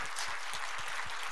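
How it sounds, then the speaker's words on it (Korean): A church congregation applauding during a sermon, dense steady clapping that fills the short moment without pause. "박수칠 준비해봐요."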